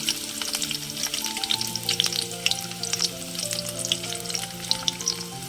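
Onions fry in hot oil in a pan for a Telangana village-style green peas curry, giving a steady, close sizzle with crackling spatters throughout and no talking.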